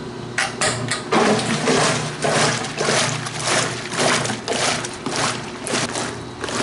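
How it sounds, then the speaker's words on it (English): A wringer washer's motor-driven agitator churns hot, soapy water in a steady rhythmic slosh, close and fairly loud with no talking. "So I let the agitator go for a little while"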